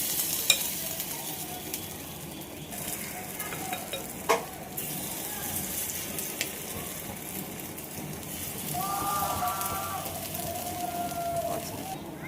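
Rava appe batter sizzles in ghee in a hot appe pan, a steady moderate crackle and hiss with a few soft clinks of a spoon, continuing without talk.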